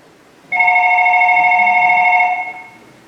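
A telephone gives one sustained electronic ring of about two seconds, loud and clear against a quiet room, then fades out.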